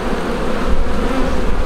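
Honey bees swarm loudly around an open, well-filled hive, a dense, steady drone of many wings close by with no voices over it.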